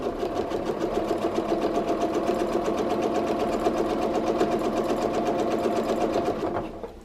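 Home sewing machine running fast during free motion quilting, a steady rapid mechanical chatter of stitches that holds for about six seconds before slowing and stopping.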